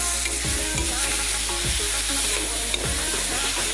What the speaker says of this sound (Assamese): आदा নহৰু পেষ্ট আৰু বিলাহীখিনি একেলগতে দি আমি এনেকৈ ভালদৰে বিলাহীখিনি নগলালৈকে ভালদৰে আমি ইয়াক ভাজিম